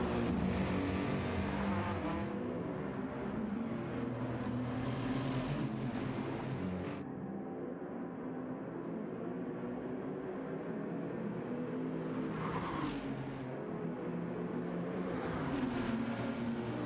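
GT race cars roar along the long Nürburgring straight during the 24-hour race, engines droning in layered waves as cars pass, with a quieter lull midway before more loud passes build up again.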